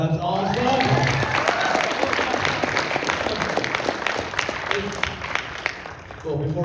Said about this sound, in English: Round of applause, that's awesome!